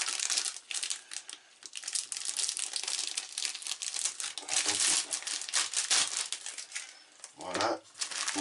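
Plastic packaging around a black model kit sprue crinkles and crackles in near, continuous bursts, with a brief voice near the end.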